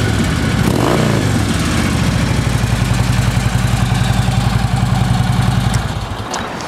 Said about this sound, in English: No problems cranking. It runs good. Motor sounds good and tight.